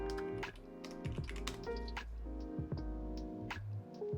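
Keys clatter on a PCB-mounted hotswap mechanical keyboard, a steady run of crisp close clicks and clacks with uneven rhythm and no talk.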